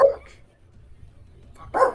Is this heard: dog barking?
yes